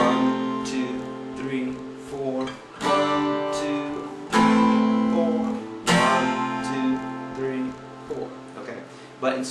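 An acoustic guitar strums the chord progression of the chorus of a song without a push, sounding loud and close, with ringing chords struck in a regular, even rhythm and each change landing squarely on the beat.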